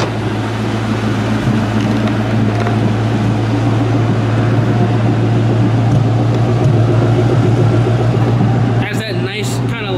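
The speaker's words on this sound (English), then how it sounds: "It has that nice kind of like rumble to it. Like a deep growl." A 2004 Ford Mustang GT with a two-valve V8 idles in a steady, deep, continuous rumble close by, with a person talking over it throughout.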